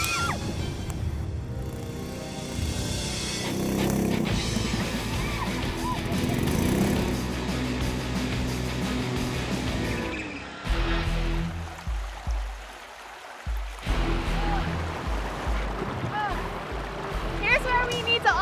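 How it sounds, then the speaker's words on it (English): A wooden river boat driven by a 16 horsepower engine runs steadily along a river, its low engine drone and rushing water continuous for most of the stretch, with a brief lull before the noise picks up again. "The boat's 16 horsepower engine and the river's currents combine, blasting us forward at up to 160 kilometers per hour"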